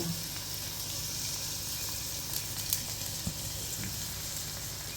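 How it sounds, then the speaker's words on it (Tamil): Potatoes fry in oil in a pan with a steady, close sizzle throughout, broken by a few faint clicks, and no talking. "இந்த உருளைக்கிழங்கு வேகிற வரைக்கும் கொஞ்சம் விட்டுருணும்"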